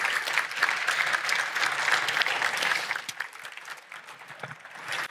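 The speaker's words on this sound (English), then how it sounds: "Could we give that a big round of applause" A large audience gives sustained applause for the Renault team at an automotive awards event, a loud and dense wash of clapping that eases slightly toward the end.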